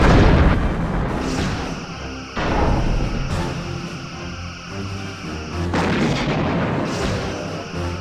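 Torpedoes launched from the forward tubes of a starship in the Star Trek Bridge Commander game: several heavy booming blasts at intervals, each with a sharp onset and a long rumbling tail, loud and close.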